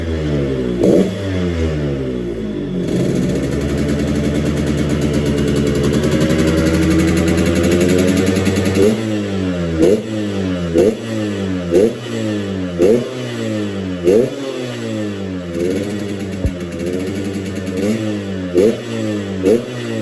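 A restored 2004 Yamaha RX King motorcycle engine is revved hard up close, first in one long climbing rev and then in a rapid string of sharp throttle blips with a raspy exhaust note that rises and falls between them.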